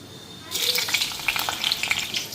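Dried red and fresh green chillies hitting hot oil in a pan: after a brief quiet moment a sudden close, bright sizzle erupts and keeps crackling and spitting unevenly to the end.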